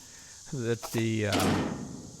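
A barn-door style latch on a dump trailer is turned and pulled open, giving a close, squealing metallic creak in two pulls followed by a rattling clunk and a sharp knock at the end.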